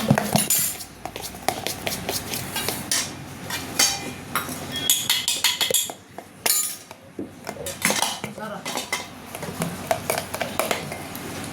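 A spoon clinks and scrapes around a bowl while mixing biscuit cake batter with Horlicks, with quick irregular metallic taps that continue steadily and fairly close.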